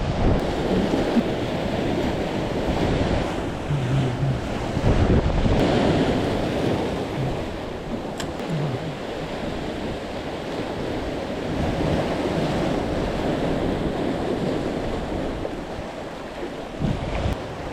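Stormy sea surf surging and crashing over a rocky shoreline of boulders and channels, a continuous loud roar of breaking waves with gusting wind buffeting the microphone throughout.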